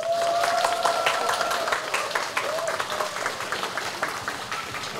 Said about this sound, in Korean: 환호와 함께 박수 한번 주시죠.